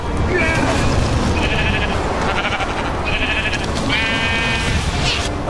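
Sheep bleating in a game setting, several wavering bleats one after another over a loud busy background, with voices mixed in.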